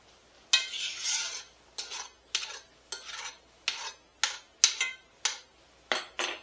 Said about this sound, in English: we want to go ahead and add in our tuna that has been drained